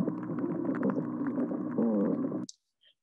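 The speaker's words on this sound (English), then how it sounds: "Okay, and then the spotted sea trout," Spotted sea trout calling underwater near Sarasota: a continuous low, rumbling drumming croak lasting a couple of seconds, loud and close, ending abruptly with a faint click after.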